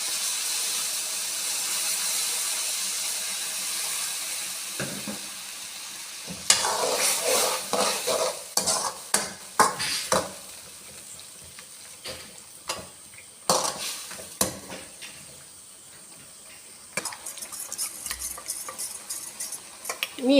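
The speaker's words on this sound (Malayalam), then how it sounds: "ഇതെല്ലാം ഒന്ന് ഇളക്കിയതിന് ശേഷം ചിക്കൻ വെന്ത സ്റ്റോക്ക് ഒഴിച്ചു കൊടുക്കുക." Chilli chicken sauce with vinegar stirred in a pan, metal spatula scraping and clinking in bursts over a soft sizzle, then chicken stock poured in, the sizzle easing into quieter bubbling and further stirring.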